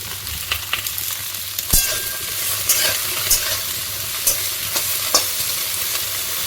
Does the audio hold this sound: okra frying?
yes